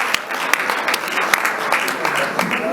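An audience applauds sports champions at a 2019 sports gala awards ceremony in Plettenberg Bay: a steady round of clapping with crisp individual claps standing out, continuing at an even level throughout.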